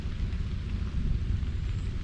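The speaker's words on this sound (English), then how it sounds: "It's raining." Steady rain falls in the Kentucky mountains amid low cloud, a soft, even hiss with a low rumbling undertone, continuous and unbroken throughout.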